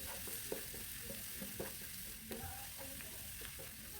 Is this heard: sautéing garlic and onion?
yes